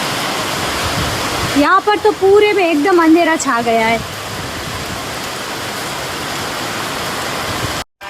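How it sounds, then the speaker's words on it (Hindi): Sudden heavy rain pours down in a steady, loud, continuous hiss that lasts the whole stretch, with a voice speaking briefly over it. "अचानक से बारिश स्टार्ट हो गई जोर जोरों से"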